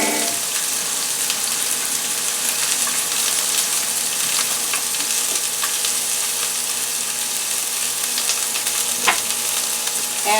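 A cup of chopped onions sizzles loudly and continuously in a pan for a teriyaki beef and pineapple stir fry, with occasional clinks and stirring scrapes and no talking.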